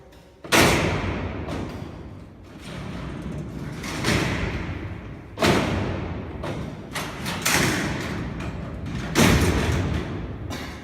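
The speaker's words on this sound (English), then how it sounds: "See, there's another mistake, how the door slides open." Heavy old cell doors at Alcatraz prison sliding and banging, several loud thuds and rumbling clanks spaced a few seconds apart, close by and echoing, with no talking.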